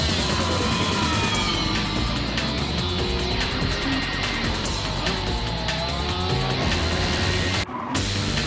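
A race car engine screams at high revs under loud, continuous racing noise, with brief dips in pitch as it shifts up through the gears and a short cut near the end.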